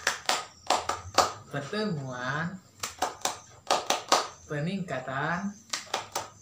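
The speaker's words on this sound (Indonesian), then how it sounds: "kita tepuk tangan dulu nih" An audience at a social-welfare training session on disability claps hands together in short patterned bursts of counted claps, with a speaker's voice talking between the rounds.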